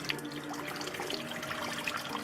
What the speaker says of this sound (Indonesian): menyalakan keran,